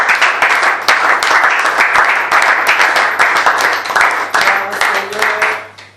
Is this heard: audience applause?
yes